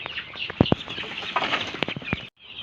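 Four-week-old domestic chicks in a nursery pen at a backyard chicken farm, a dense chorus of high peeping and cheeping with a few sharper chirps standing out, close by and continuous before a brief drop near the end.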